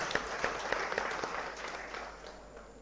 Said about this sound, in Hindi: चलो एक बार जोरदार ताली हम आपके लिए बजाते हैं